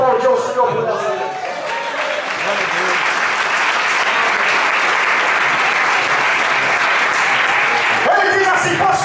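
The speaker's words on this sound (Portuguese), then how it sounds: "Todos podem aplaudir o Senhor por essa vez." A church congregation at a men's service breaks into sustained, loud applause that builds into a continuous wash of clapping, with a voice speaking over it at the start and end.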